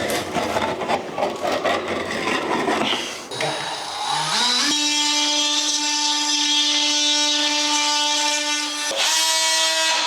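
A Hikoki 36V cordless power tool cuts through cork, a rough rasping grind at first, then the motor spins up into a steady high whine, cuts out briefly and runs again, loud and close.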